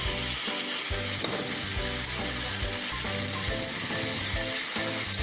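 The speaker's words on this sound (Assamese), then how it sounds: "এইখিনি মই ভালদৰে ভাজি থাকিম," Ginger, garlic and chili paste fries in hot oil, a steady crackling sizzle with rhythmic scraping as it is stirred, close and continuous, no talking.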